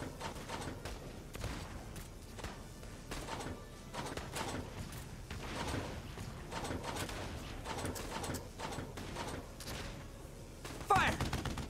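Gunfire in the Valkyria Chronicles 4 video game, a steady scatter of shots and impacts through a busy battle mix, with a sharper burst near the end and voices talking over it.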